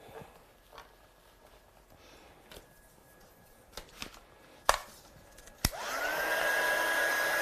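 Close, steady whoosh of a heat tool blowing hot air to dry heat embossing starts near the end, after a few light taps and handling clicks on a craft surface.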